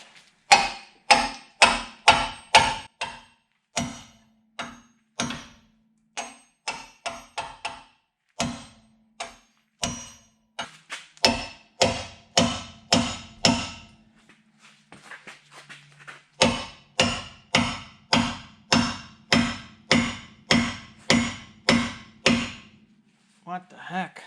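Repeated metallic hammer blows on the suspension of a 2003 Jeep Wrangler Rubicon in fast bursts with short pauses, loud and close, ringing against metal.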